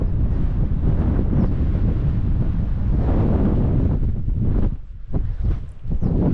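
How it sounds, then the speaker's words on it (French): Strong wind buffets the microphone during a mountain bike ride with a continuous low roar and gusty rumbling, easing briefly near the end. "Là c'est venté, le vent vient de derrière moi."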